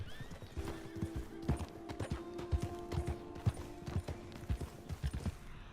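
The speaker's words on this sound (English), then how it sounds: "That, my friend, is what we refer to as a person on a horse" Horse hooves clip-clopping in Red Dead Redemption 2: a close, steady run of hoofbeats that lasts the whole clip, with a horse neighing partway through.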